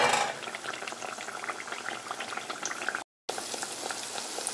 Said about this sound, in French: Je vous fais voir les derniers en train de cuire.